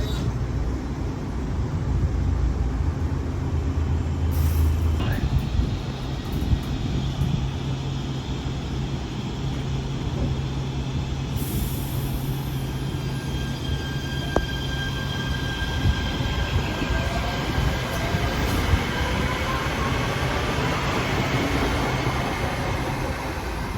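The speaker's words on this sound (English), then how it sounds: "here comes a train heading towards Pomona North" A Los Angeles Metro A Line train pulls into Irwindale Station, a loud, sustained rumble of wheels on rails with squealing and high metallic whines rising over the roar, heard close from the platform.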